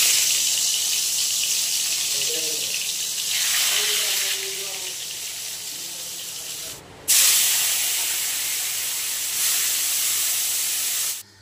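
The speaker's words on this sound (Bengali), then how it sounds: "ওদিকে উচ্ছে ভাজা বসিয়ে দিয়ে আমি এদিকে চলে আসলাম।" Bitter gourd slices frying in an iron wok give a steady, loud hiss and sizzle. The sound swells and dips in a few places and cuts out briefly near the end before returning.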